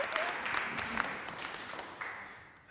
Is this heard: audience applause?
yes